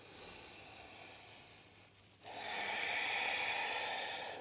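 Slow, steady breathing during a yoga practice for runners: a long, soft airy exhale fades out, then after a brief pause a fuller, louder breath rises and holds, close and breathy, with no talking.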